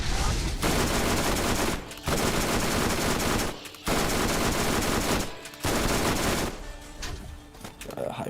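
Hyperion Thumper firing in Borderlands, long sustained bursts of rapid gunfire filling several seconds each, broken by short pauses, loud and close.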